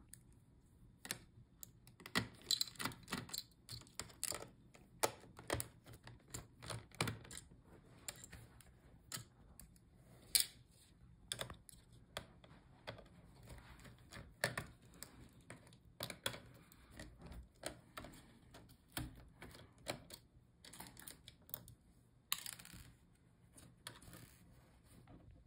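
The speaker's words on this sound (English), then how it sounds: "Now let's unscrew the screws for the fan." Small screws are removed from the cooling fan of an MSI gaming laptop during repair. Light, close clicks and ticks come in irregular bursts over a quiet background, with no voices.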